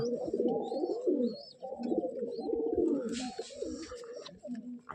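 Several Giribaz pigeons coo close by in a pigeon house, with repeated rolling low coos in overlapping bursts and a few faint high chirps alongside.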